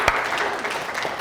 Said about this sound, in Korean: 한번 박수를 한번 힘차게 쳐주세요